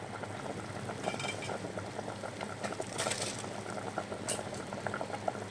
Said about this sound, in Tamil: நல்லா வந்து தண்ணி கொதிக்க ஆரம்பிச்சிச்சு.